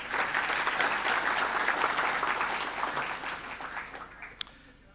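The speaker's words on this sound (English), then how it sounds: "So give them a clap" An audience at a construction-industry mental health and suicide prevention conference breaks into dense, steady applause that holds for several seconds before fading away, ending with a single sharp tap.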